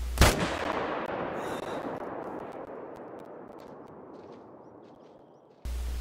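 A single M1 Garand rifle shot fired at a whitetail deer in a hunting video game cracks loudly at the start, then rolls away in a long, slowly fading echo across open terrain.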